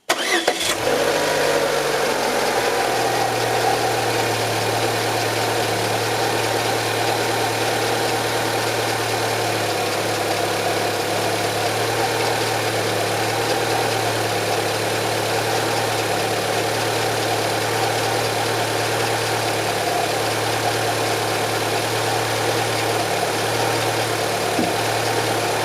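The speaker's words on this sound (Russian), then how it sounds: "Запускаем двигатель и даем поработать некоторое время" A Renault Logan car with a K4M engine starts and then settles into a steady, even idle, a constant low hum that carries on alone without talk for the whole stretch.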